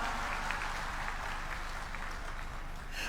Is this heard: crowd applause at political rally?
yes